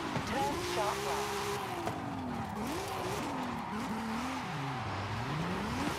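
A Mitsubishi Galant in the racing video game Forza Horizon 5 has a steady engine that wails and swoops as the revs rise and fall through drifts, with tire squeal and talk over it.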